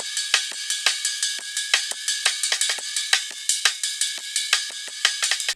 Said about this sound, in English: The last loop I've dragged in is this ride loop.